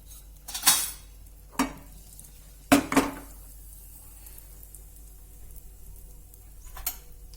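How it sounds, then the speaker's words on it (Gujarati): Hot oil sizzles softly in a pan as asafoetida (hing) goes in for Gujarati pav bhaji, with a few sharp metal utensil clinks and clatters standing out above the steady hiss. "તેલ ગરમ થાય એટલે હિંગ નાખશું."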